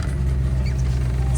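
A Land Rover Discovery 1 truck engine idles steadily with a deep, even low-pitched rumble, close and continuous throughout.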